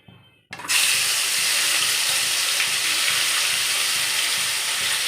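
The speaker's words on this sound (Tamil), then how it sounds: "எண்ணெய் நல்லா சூடாகிட்டோம். இப்போ நம்ம ரெடி பண்ணி வச்சுருக்க சிக்கனை எடுத்து அதில் போட்டுடலாம்." Marinated chicken pieces go into well-heated oil and set off a sudden loud sizzle. The steady hissing fry fills the rest of the moment, close by, with no voices.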